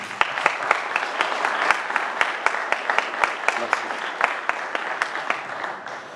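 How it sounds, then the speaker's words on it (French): An audience applauds the organisers at a political speaking event, with crisp individual claps cutting through a steady mass of clapping throughout. "je pense que vous pouvez les applaudir."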